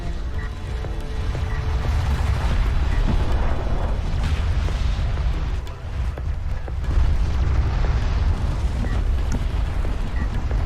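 A carrier is destroyed in the video game Homeworld: Deserts of Kharak, with dense, continuous rumbling explosions and booms that stay loud throughout, and some voice faintly underneath.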